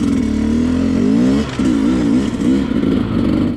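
A Sherco 250SE motorcycle engine on its first ride sounds loud and near, rising and falling as the throttle is worked, with a brief dip around the middle before it picks up again.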